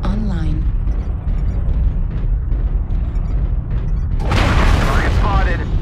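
Heavy airstrike explosions in a video game, with a steady low rumble of blasts through most of the stretch and a louder broadband burst near the end, mixed with a synthetic voice announcing game events.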